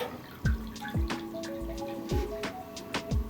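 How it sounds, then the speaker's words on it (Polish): Water is poured into a baking pan while making a spring table arrangement, heard as a series of close drips and splashes with hollow, ringing resonances from the pan, with no talk over it. "Wlewam sobie teraz wodę."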